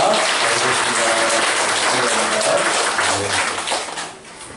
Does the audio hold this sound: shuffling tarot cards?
no